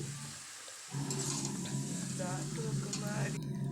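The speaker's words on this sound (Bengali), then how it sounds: "হালকা করে ঢাকা দেবো আবার কিছুক্ষণ পরে খুলে আবার নাড়বো" Chicken curry stirred in a pan with a steady low sizzle, a spoon scraping faintly now and then, close and fairly quiet throughout.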